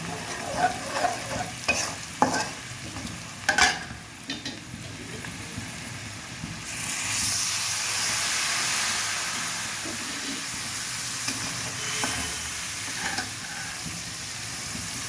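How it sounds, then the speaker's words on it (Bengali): Spices with coriander being sautéed in a pan for a shrimp, bean and cauliflower curry: scraping stir strokes and clinks early on, then a steady loud frying hiss and sizzle that carries through the rest. "দিব একটু ধনিয়া, ভালোভাবে কষে"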